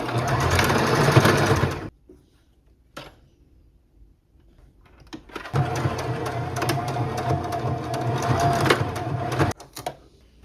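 A sewing machine stitches a quarter-inch seam in thrifted clothing, running loud and close in two rapid, steady bursts separated by a quiet pause.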